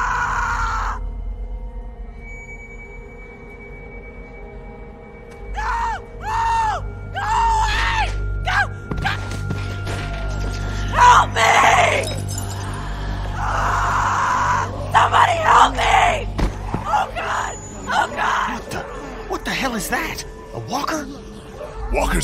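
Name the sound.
girl screaming in The Walking Dead video game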